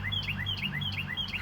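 A bird chirps repeatedly in a garden, its bright rising calls repeating in a steady rhythm over a constant low hum, close and clear.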